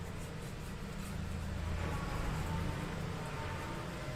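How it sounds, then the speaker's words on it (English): A lorry pulling in outside a hobby workshop gives a steady, low, faint rumble in the background that swells slightly in the middle and holds throughout, with no speech. "there's a lorry coming in, guys, so if we do hear noises"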